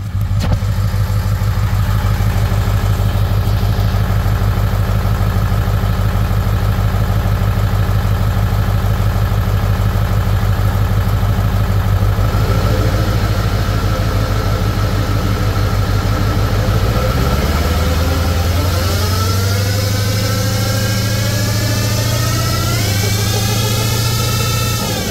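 A jacked-up 7.3 Ford Excursion runs loud and close for the whole stretch, a steady idling drone overlaid by a whine whose pitch climbs and wavers in the second half as the engine note shifts.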